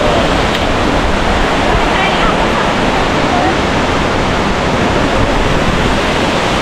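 A waterfall in Da Lat, Vietnam, roars as a loud, constant broadband rush of falling water, steady and close throughout.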